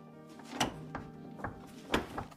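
Door in an abandoned mansion being worked open or shut, giving a few separate knocking thunks spread through a short quiet stretch, moderately close.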